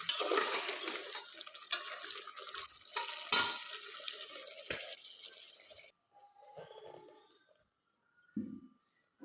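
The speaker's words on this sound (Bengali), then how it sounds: "তো এখন একটু করে জল দিয়ে দিব।" Water poured into a pot of thick, well-fried curry and stirred, a dense broadband wash of pouring and scraping with sharp clinks of utensil on metal, then quieter scattered stirring and a few soft knocks.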